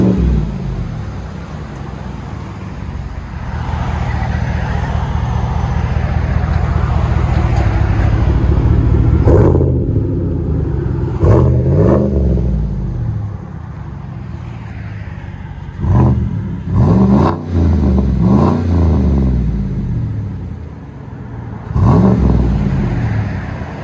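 A 2017 GMC Sierra pickup's 5.3-litre V8 rumbles loudly through a Flowmaster Flow FX exhaust with resonator and tailpipe removed, with several sharp revs rising and falling over a deep, steady idle.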